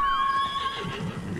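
A horse in the video game Ghost of Tsushima lets out one loud, close whinny that rises and then trails off, with faint hoof clops underneath.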